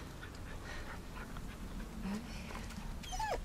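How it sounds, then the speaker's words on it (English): A dog in the video game The Medium pants and whimpers softly in a forest, with a few high whining yips toward the end, fairly quiet against a low ambient background. "Oh, it's a dog."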